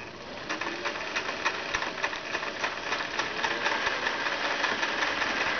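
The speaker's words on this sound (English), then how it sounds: "we're just going to move the quilt sandwich around and free motion quilt." A Singer 503 sewing machine with a darning foot runs steadily at close range while free motion quilting a quilt sandwich, a continuous motor hum with a fast, even stitching rhythm throughout.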